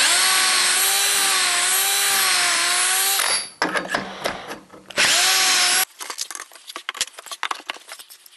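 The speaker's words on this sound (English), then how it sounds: "Now I need to drill the holes in the cross-member pieces" A power drill bores holes in the cross-member pieces of a standing desk, with two long high whining runs broken by a pause, then scattered clatter and rattling as the work is handled.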